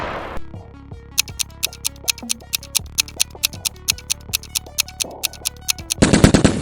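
Rapid automatic bursts from a PARAFAL rifle in the video game PUBG fire in a steady rhythm of about twenty loud, close shots, each with a sharp crack, ending in a brief noisy tail.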